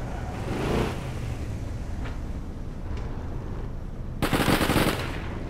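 Gunfire in the mobile game South Park: Phone Destroyer: a short automatic burst early on, a couple of faint single pops, then a louder, denser volley near the end over a steady low background.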